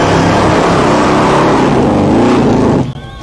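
A 700 hp supercharged alcohol-burning 8.2-litre Chevy V8 roars at high revs during a smoky burnout at a car show, loud and close and sustained for nearly three seconds before dropping off abruptly.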